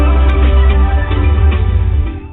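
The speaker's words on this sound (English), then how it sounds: "The music system is very nice guys" Music plays through the four-speaker infotainment system of a 2020 Hyundai Grand i10 Nios Sportz, loud and bass-heavy with a dense, muffled band, heard inside the cabin.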